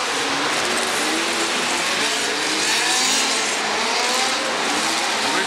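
Midget race cars roar around the Bull Ring in a dense, continuous wash of engine noise, with several cars passing and a rising and falling whine, loud and steady throughout.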